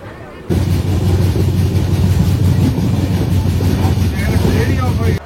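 A passenger train on the run to Digha rumbles along loudly, a steady low roar with wind buffeting the microphone.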